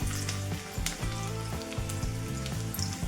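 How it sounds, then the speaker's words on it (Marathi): Garlic frying in hot oil in a pan gives a steady sizzle, close and continuous, layered with a rhythmic tonal pattern, likely background music. "पॅनमध्ये मी तेल गरम केलं आहे त्याच्यामध्ये लसूण ॲड करायचं आहे"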